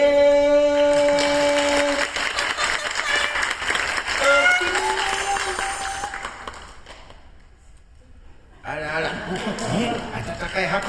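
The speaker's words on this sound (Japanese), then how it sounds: "拍手をいただいちゃって" An audience at a character stage show applauds, clapping and light chuckles under voices and music, fading to near quiet before chatter and activity return.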